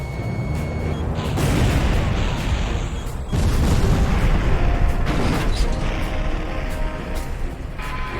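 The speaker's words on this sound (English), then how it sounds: "Bomblet dispenser launch." Bomblet dispenser release and a rolling string of explosions in Ace Combat Zero, a dense, loud rumble of overlapping booms and mechanical clatter with sharp bursts throughout.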